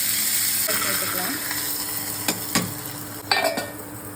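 Mustard seeds and curry leaves crackle and sizzle in a single spoonful of sesame oil as a tempering for kuzhambu: a steady close hiss with a few sharp utensil clinks near the end.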